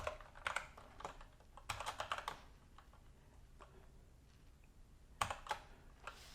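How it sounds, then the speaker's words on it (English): Bursts of quiet, close clicking keystrokes on a computer keyboard come in short rapid clusters separated by pauses, with a brief final flurry near the end. "Let's type some out."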